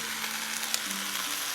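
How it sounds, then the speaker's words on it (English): Broccoli, carrots and asparagus go into a pot of homemade chicken soup with a continuous hissing sizzle and a faint low hum beneath it, close and steady with no talking. "Now I'm going to add in the other harder vegetables, such as the broccoli, the carrots, and the asparagus."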